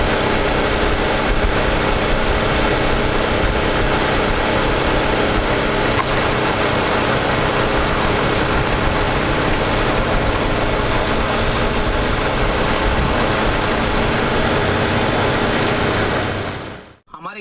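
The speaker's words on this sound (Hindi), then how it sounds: "फिर एक बार चेक करते हैं कि इंजन नॉइस वैसे आ रहा है कि नहीं आ रहा" A Hyundai Grand i10 Nios running on CNG idles with a steady, loud engine drone and a faint ticking knock, going on for a long stretch before it cuts off abruptly at the end, a voice talking over it.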